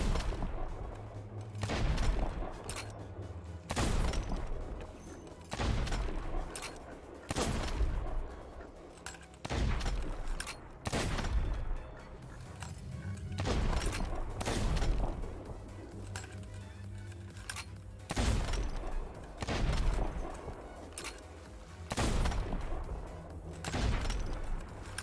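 Gunfire aimed at a skeleton in the video game Sea of Thieves: repeated sharp shots and booming bursts at irregular intervals, moderately loud, over a low background hum.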